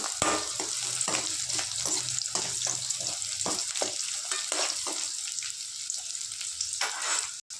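Chopped onions and tomatoes fry steadily in a pan, a continuous close sizzle broken by repeated scraping stirs, with no one talking.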